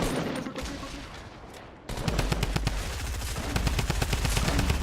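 Rapid automatic gunfire in a competitive shooter video game match, loud and steady, with a brief burst first, then a short gap and a sustained stream of repeated shots.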